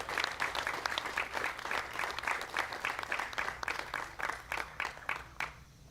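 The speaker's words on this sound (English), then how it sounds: "One more round of applause for our honorary veterans." A crowd at a baseball game claps and applauds for honorary veterans in a steady, sustained burst that fades toward the end, heard from a distance.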